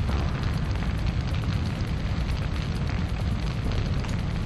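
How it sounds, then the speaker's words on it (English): A fire burns in Syphon Filter 2 on a New York slums mission, a loud, dense, continuous roar and crackle that stays steady throughout with no pauses. "there's a fire, so you have to put it out"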